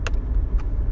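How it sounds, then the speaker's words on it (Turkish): Knuckles rap twice on the hard plastic glovebox of a Chevrolet Kalos 1.4, giving two short, sharp knocks about half a second apart over a low background hum. "şu an torpidoya vuruyorum ve tütür ses geliyor"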